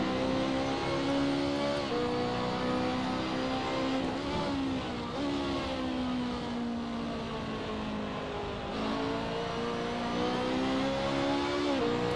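Ferrari GT2 race car at Mugello in the Assetto Corsa racing game, its engine a loud, steady high-revving drone that rises and dips in pitch as it passes close by, with no talk.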